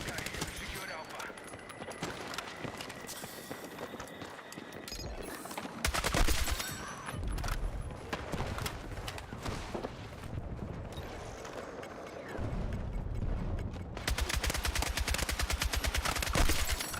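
In the video game Battlefield 6, SOR rifle gunfire and other weapons crack in dense, rapid bursts, with louder close volleys toward the end and players talking throughout.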